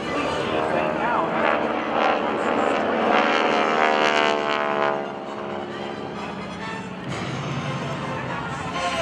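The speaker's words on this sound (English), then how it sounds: "A stunning vertical diver attempts to fly through the center." GEICO Skytypers propeller airshow planes in a vertical dive roar loudly and steadily, their engine tone sweeping overhead, while an announcer talks over the noise.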